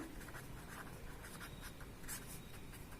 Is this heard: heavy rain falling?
no